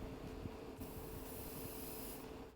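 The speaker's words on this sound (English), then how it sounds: "Quick test spray." An airbrush gives a quick test spray of thick metallic paint for a model kit, a soft steady hiss of air close to the microphone that swells midway and fades near the end.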